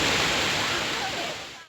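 Cachoeira do Chuchu waterfall in Cambé, Paraná, roaring as a constant broadband rush of falling water, steady and fairly close, cutting off abruptly at the end.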